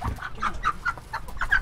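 A hen clucking repeatedly up close, a quick series of short, throaty notes in an uneven rhythm.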